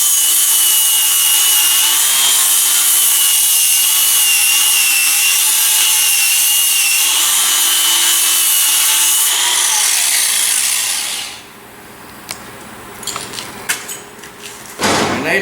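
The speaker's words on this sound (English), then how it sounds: "Just using these little flap discs for this, they're not near as aggressive and they're good for cleaning welds up" A flap disc on an angle grinder cleans up welds with a loud, steady high-pitched grinding whine for about eleven seconds, then the disc spins down and scattered clanks and scrapes follow.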